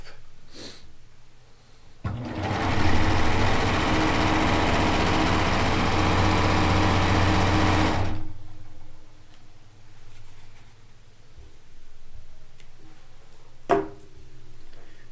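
A sewing machine stitches quilt pieces together with the stitch length at about 2.5, a steady loud whirring run of about six seconds that starts and stops abruptly, with quiet handling sounds around it.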